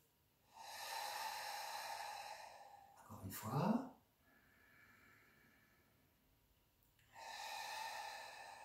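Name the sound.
slow thoracic breathing in through nose, out through throat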